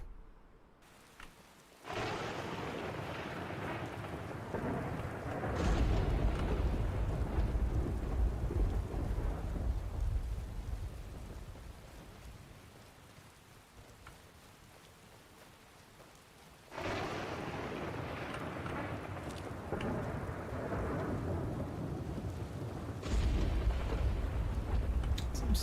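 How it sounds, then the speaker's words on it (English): A thunderstorm rolls through in the video game Skyrim, heavy rain hissing steadily while two long, loud thunder rumbles build and fade, the second starting about midway. "Some serious thunder and lightning going on."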